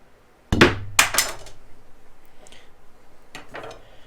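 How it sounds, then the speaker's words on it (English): A knife dropped from about three feet lands on SMARTCORE vinyl plank flooring in a mobile home remodel, striking with a sharp metallic clatter and a couple of quick bounces, then quiet with faint distant clicks. "let's go ahead and do the knife drop test. This is from about 3 feet above."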